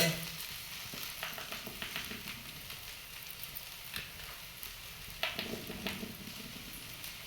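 Okra sizzles in a pan with sautéed onion, salt and turmeric, a steady soft frying hiss with occasional stirring scrapes and pops, close and fairly quiet.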